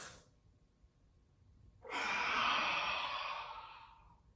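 A slow, deep inhale and exhale during a beginner yoga flow, a soft quiet pause giving way to a long, steady airy breath that swells and gradually fades, close and alone.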